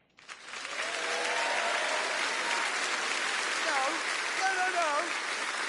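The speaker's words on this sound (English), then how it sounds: "Don't clap. Don't clap." A studio audience breaks into sudden, sustained applause that holds steady like a dense patter. Voices call out briefly over the clapping.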